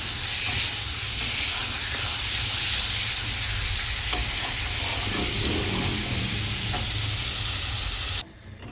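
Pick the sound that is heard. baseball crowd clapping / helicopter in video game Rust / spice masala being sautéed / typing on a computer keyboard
spice masala being sautéed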